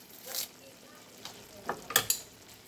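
Beef stir fry sizzles in a hot pan as green onions go in, with short bursts of crackling sizzle and stirring scrapes over a low background hiss.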